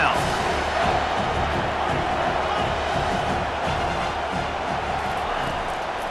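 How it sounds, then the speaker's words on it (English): A stadium crowd in EA Sports College Football 25 roaring steadily as cheering swells, a broad, constant wash of noise under a commentator's voice. "The crowd elevating its energy, willing this defense to get a stop on this big 3rd down."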